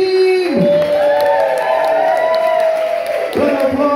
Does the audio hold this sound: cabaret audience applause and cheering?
yes